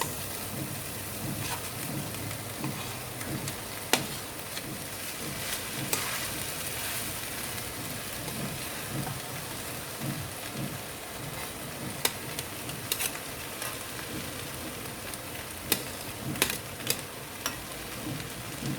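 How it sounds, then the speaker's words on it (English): Rice stir-fried with vegetables in a hot pan for Indo-Chinese vegetable fried rice, a steady close sizzle with scraping stirs and occasional sharp clinks of the spatula against the pan. "Now let us add the rice."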